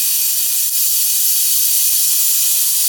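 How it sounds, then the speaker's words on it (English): Air hisses out of a valve on a vintage GMC motorhome in a loud, steady, bright rush that holds without pause for a few seconds. "you can let air out from right here"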